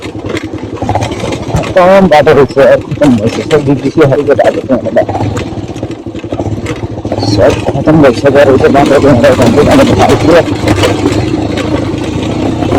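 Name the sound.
motorcycle engine on a rough off-road path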